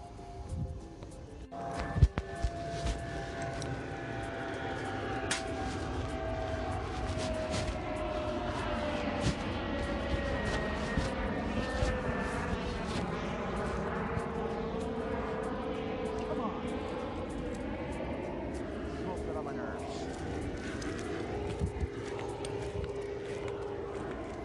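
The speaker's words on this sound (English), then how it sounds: "The planes are kind of not stopping." Airplanes passing overhead outdoors, a faint, distant drone with slowly sliding engine tones that persists throughout, with a few small knocks and background sounds.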